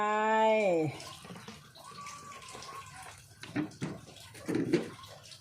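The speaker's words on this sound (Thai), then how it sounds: "ใส่น้ำปลาลงไป" Fish sauce poured into a Thai steamed mushroom mok dish, a soft liquid splashing and trickling heard close up after a brief sustained tone at the start.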